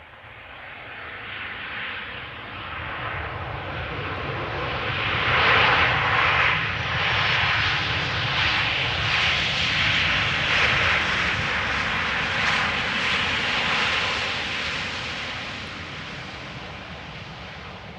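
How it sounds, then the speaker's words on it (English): A Transavia Boeing 737-800 airliner arriving at Amsterdam Schiphol from Alicante, its engine roar swelling steadily as it passes close by, peaking mid-way and then slowly fading, with no voices over it. "a 737-800 up next. Transavia arriving from Alicante, flight 6144."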